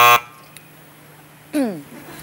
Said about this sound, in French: Ce buzzer ne marche pas.